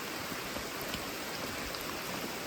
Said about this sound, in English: rainy today.